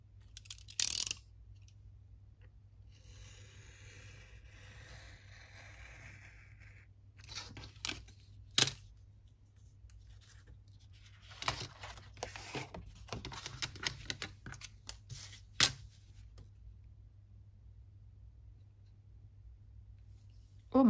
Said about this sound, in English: let's just take out scissors